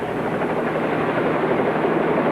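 A helicopter flies steadily and loudly throughout, its rotor and engine forming a dense, continuous roar with a faint rhythmic chop and no voices.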